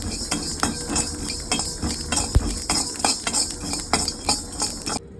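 Fenugreek, cumin and mustard seeds roasting in a kadai, with a busy, rhythmic run of metal spoon scrapes and clatters over a light sizzle, then a sudden stop.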